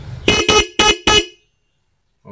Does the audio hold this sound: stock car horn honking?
yes